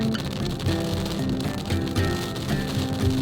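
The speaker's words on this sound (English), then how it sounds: "It's pretty much raining." Steady rain falling outdoors near a hardware store, a continuous close wash of drops on surfaces with no talk, faint hum mixed in.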